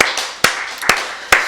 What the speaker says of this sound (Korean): 박수로 하나님께 영광 드리겠습니다